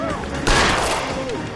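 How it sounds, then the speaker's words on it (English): A gunshot in the video game LA Noire: a single sudden loud crack with a short reverberant tail, heard over faint background music. "Oh, I shouldn't have shot him, should I?"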